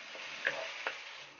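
Onion and garlic sauté in a pan with a soft, steady sizzle, broken by two brief sharp ticks from stirring.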